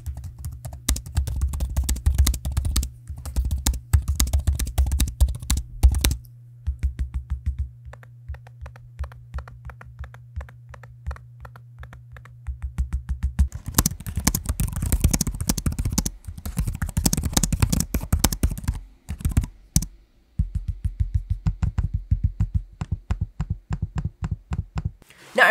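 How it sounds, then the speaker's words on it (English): Rapid laptop trackpad clicks compare a manual click trackpad with a vibration click trackpad. Dense bursts of sharp, dry tapping run almost continuously, close to the microphone and without talking, with a brief low hum in the first half. "this is a manual click trackpad where this is a vibration click trackpad"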